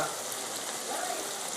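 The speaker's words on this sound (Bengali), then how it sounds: "তো সবজিটা ভাজা" Vegetables fry in a pan for Maggi noodles, giving a steady, even sizzle heard up close with no break and no talking.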